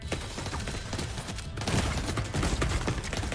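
Rapid, continuous gunfire from a firefight in The Division 2 video game, a dense unbroken barrage of shots at moderate loudness, slightly heavier in the second half.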